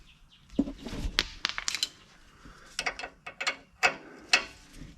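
An 18mm socket wrench ratchets in short bursts of quick clicking while a shock is worked on during a Jeep Gladiator 2-inch lift install, the clicks close and irregular in several spaced runs with no talk.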